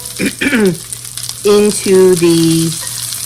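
Meat pieces brown in a hot pan while being turned, a steady close sizzle running throughout, broken by a few loud tonal squeaks and bursts near the start and middle.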